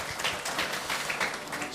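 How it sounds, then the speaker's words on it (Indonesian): A congregation claps during a wedding blessing service at a GPdI Pentecostal church, a brief burst of moderate, somewhat rhythmic clapping mixed with voices. "Kita beri tepuk tangan bagi Yesus Tuhan kita."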